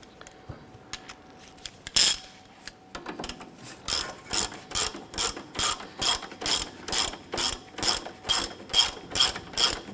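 A hand ratchet tightening a nut on the front lower control arm of a 2008-2012 Honda Accord: a few tentative clicks, then a long steady run of rhythmic clicking bursts, close and crisp, with no talking.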